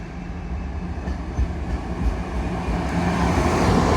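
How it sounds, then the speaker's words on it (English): A freight train hauled by three Freightliner Class 66 diesel locomotives passes at York on the East Coast Main Line, a steady low rumble of wagons that grows gradually louder across the clip, with no voices. "this is a triple lot of Freightliner Class 66s"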